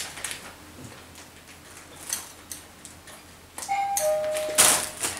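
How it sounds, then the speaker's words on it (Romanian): A two-tone doorbell chime rings inside a home, loud and close, near the end of a quiet stretch, with faint room noise before it. "Ia uite că sună la ușă."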